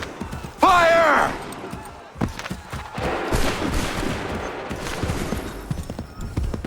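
Musket volley fired by soldiers in Assassin's Creed 3, a ragged spread of gunshots under shouted orders and battle noise, with a horse whinnying near the start and hooves and clatter continuing.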